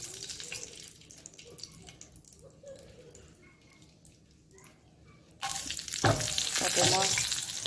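Dried chilies hit hot oil in a wok with a sudden loud burst of sizzling and crackling that stays intense after a quieter stretch of low background noise.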